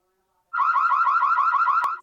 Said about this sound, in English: The audible alarm.